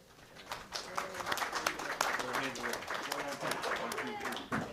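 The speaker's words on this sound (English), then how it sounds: "Let's give our school board members one more round of applause." A school district gathering gives its school board members another round of clapping, moderately quiet and scattered, building after a brief start while voices and cheerful chatter run over and through it.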